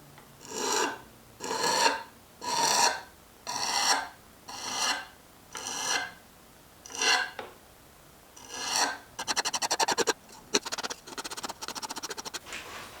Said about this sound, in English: spoke shape didn't work, so we're gonna give the rasp a try